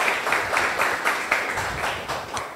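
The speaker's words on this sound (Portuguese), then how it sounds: "Queria pedir uma salva de palmas para a Carmela." An audience at an open innovation pitch session on the future of energy gives Carmela a round of applause: a dense, sustained wash of many hands clapping, loud and even, with no voices over it.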